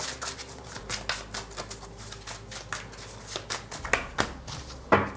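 A deck of tarot cards is shuffled close by, giving a quick run of papery flicks and riffles in uneven bursts, with a couple of sharper snaps near the end and no talking.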